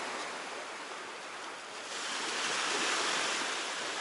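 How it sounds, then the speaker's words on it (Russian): Waves from the Baltic Sea wash onto the shore in a soft, continuous surf that swells slightly louder partway through, heard alone with a breath of wind. "шумит волна."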